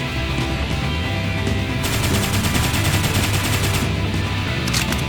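Rapid automatic gunfire from a video game battle in Xenoblade Chronicles X, a dense, loud continuous stream of shots with game music and ambience underneath, sustained for several seconds.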